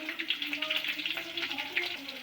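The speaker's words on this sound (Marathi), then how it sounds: "ते आई तेल टाकून घेत आहे. इकडे जिरा टाकलेला आहे आईने, मिरची," Cumin and green chilies sizzle and crackle in hot oil in a home kitchen pan, a bright continuous frying hiss with small pops.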